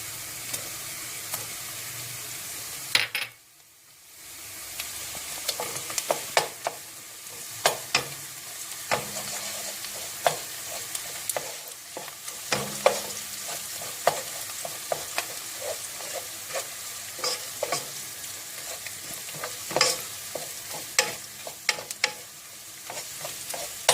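Onions and tomato paste frying in oil in a pan, a continuous crackling sizzle broken by frequent spoon scrapes and clicks of stirring, up close and without speech.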